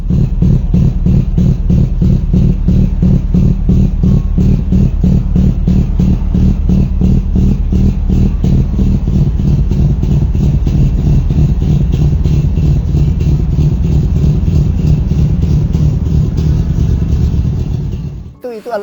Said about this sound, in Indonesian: kita juga kangen sama suara khasnya rotary yang tret segala macam itu